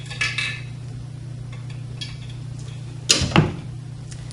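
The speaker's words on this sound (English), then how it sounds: "We're going to put it in our centrifuge." A test tube is placed into a lab centrifuge: a faint clink near the start, then a sharp pair of clattering knocks toward the end over a steady low hum.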